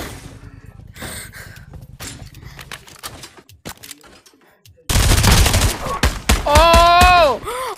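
Gunfire in an open-world crime video game, sharp shots cracking amid game noise, followed by a louder burst of rapid shots and a rising whine, with no talk.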